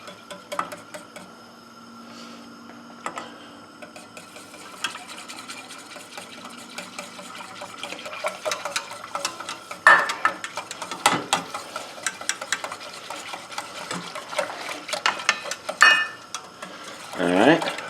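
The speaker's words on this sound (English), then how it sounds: "All right, I'm going to keep whisking." A whisk scrapes and clatters steadily in a pot as polenta is added little by little to the liquid, with close, irregular metallic strokes that grow busier toward the end.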